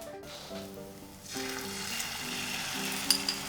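Egg-based tortilla mixture hits a hot frying pan and breaks into a steady, loud sizzle that keeps going, with a couple of faint clinks of utensils near the end.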